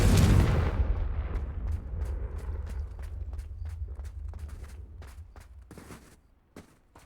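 A Confringo fire spell bursts in Hogwarts Legacy with a loud, booming explosion up front, followed by a long rumbling decay under scattered sharp crackles and pops that fade out.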